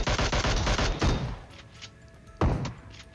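A Mini-14 rifle fires in PUBG Mobile, a rapid burst of loud cracking shots, then a pause and one more heavy report ringing out.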